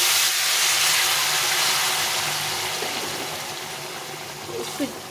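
Hot water goes into a ridge gourd curry cooking in a hot pan and sets off a loud, close rush of hissing steam and bubbling that slowly fades over several seconds.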